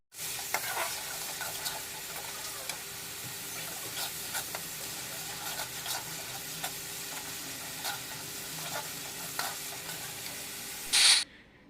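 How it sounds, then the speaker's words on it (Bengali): Potatoes frying in a pan, a continuous close hissing sizzle with small crackles and stirring, ending in a short louder burst near the end, no voices. "আলুটা ভেজে নিচ্ছি"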